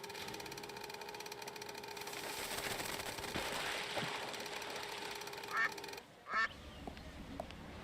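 Ducks in the Secret Files 2 video game quacking twice near the end of the clip, brief nasal calls that follow a steady mechanical hum and a sudden drop in the background sound.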